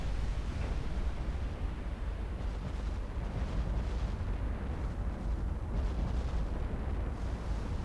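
Naval guns fire high-explosive shells in the naval warfare game Ultimate Admiral: Dreadnoughts, a dense, continuous roar of overlapping booms and rumbling blasts that rises and falls without pause.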